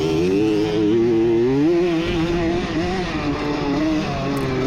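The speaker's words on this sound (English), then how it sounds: "That CR80 was screaming, but I love how it hooks up in the corners." A Honda CR80 two-stroke dirt bike screams at high revs during a motocross race, its close, loud engine note wavering as the throttle rises and falls, continuous throughout with no voices.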